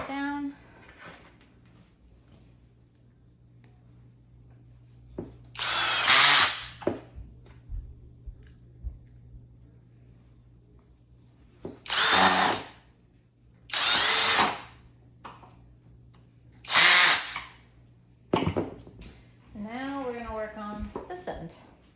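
A power drill drives screws into wooden craft show shelves in several short, loud whirring bursts separated by quiet pauses, with a voice speaking briefly near the end.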